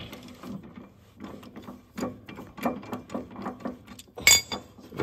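Ratchet wrench with an 18 mm socket loosening a mower blade on a John Deere 2038R: a run of rapid clicking ratchet strokes, close and fairly loud, ending in a sharp metallic clank.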